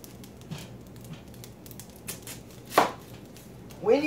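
A knife chopping an onion on a board: scattered soft cuts build to a few sharp, louder chops near the end, close up with no other sounds.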